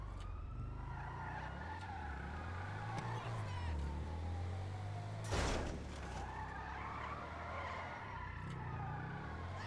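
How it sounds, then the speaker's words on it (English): In the game Criminal Duck, a car drifts and spins with a steady droning engine, tires squealing as the pitch rises and falls, plus a brief sharp impact midway, while players talk over it. "I tried drifting, I just did like 3 fucking spins"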